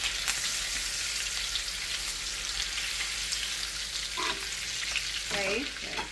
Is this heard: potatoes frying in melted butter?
yes